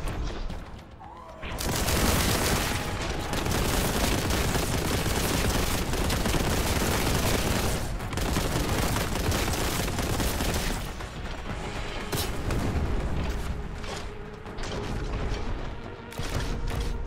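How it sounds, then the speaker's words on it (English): Gunfire in the Boltgun shooter game: sustained loud volleys of rapid shots with mechanical clatter and booms, briefly pausing near the start and again around the middle before resuming. "Shots."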